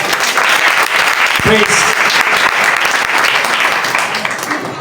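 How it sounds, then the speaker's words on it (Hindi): A church congregation claps together during a Hindi-Urdu sermon, dense and steady applause filling the whole stretch, with a voice briefly cutting through partway. "तालियां बजा के बताएं जरा।"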